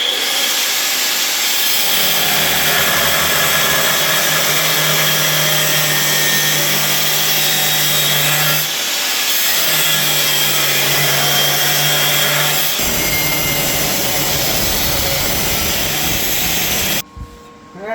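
A power tool grinds and cuts through a metal piece for a Jeep transfer case support, giving a loud, continuous whining buzz with a humming undertone that pauses briefly and then resumes before cutting off near the end.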